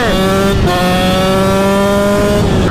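A KTM SX 125 dirt bike engine revs loudly and close, a high buzzing whine that holds steady with brief dips between throttle pulls.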